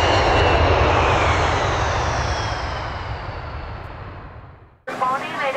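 Loud, close roar of an Air China airliner's engines, steady then slowly fading, followed by a cut to a person talking.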